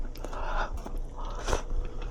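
Close-up chewing of partly cooked, al dente spaghetti noodles, soft wet bites and crunchy mastication sounds repeating over a couple of seconds in a home kitchen.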